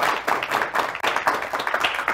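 Studio audience applause greeting a newly married guest on a Turkish talk show, steady dense clapping throughout with a brief dip near the middle, fairly close and moderately loud, with no talk over it.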